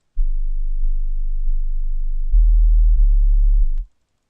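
A filtered sub-bass tone limited to 20 to 80 Hz, produced in FL Studio, a loud pure low hum held for nearly four seconds, stepping up in level partway through before cutting off abruptly.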